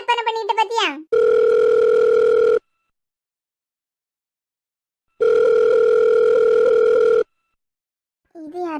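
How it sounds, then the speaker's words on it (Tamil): A phone rings with a call from a new number, sounding as two long, steady electronic tones separated by a silent gap, loud and close, with a voice briefly heard before and after. "இது யாரு புது நம்பர்ல இருந்து ஃபோன் பண்ணிருக்கா?"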